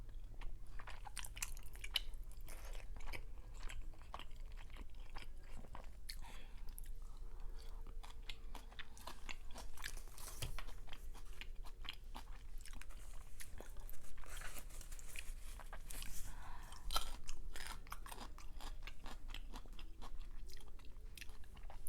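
Someone chews crunchy soy garlic Korean fried chicken wings close to the mic, with continuous wet crunching and biting over about twenty seconds and no talking.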